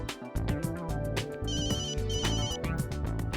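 A mobile phone ringtone plays loudly and steadily for a few seconds, a bright repeating electronic melody with no talking over it, in a Jeannie aur Juju cartoon scene.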